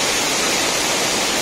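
Purandhara waterfall in Dang, Nepal pours in a steady, dense roar of rushing water, broad and constant with no pauses and no voices over it.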